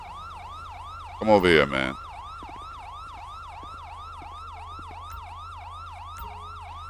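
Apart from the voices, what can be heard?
emergency vehicle siren in video game GTA V LSPDFR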